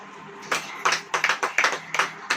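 Scattered clapping from a church congregation during a Hindi sermon, arriving in a few uneven bursts of claps rather than a sustained ovation, moderately loud and close.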